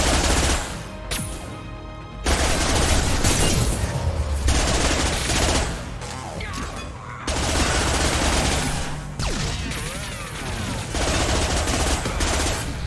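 Heavy, sustained automatic gunfire in Mass Effect 2 comes in loud, dense bursts with only brief lulls, firing fast and close. Several volleys overlap across the whole stretch, rising to near-constant rattling with booming impacts.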